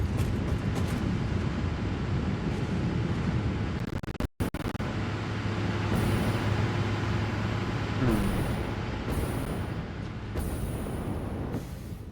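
A train passes in the factory-building video game Satisfactory: a loud, steady mechanical rumble that holds for the whole stretch, dips briefly for an instant, then carries on with faint tonal hums and no talking.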